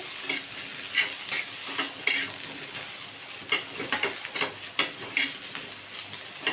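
Tomatoes and green chillies roasting in a little oil in a pan, a soft sizzle under repeated close scrapes and taps of a spatula in an uneven rhythm, with no talk.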